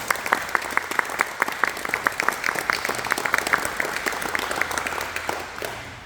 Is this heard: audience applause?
yes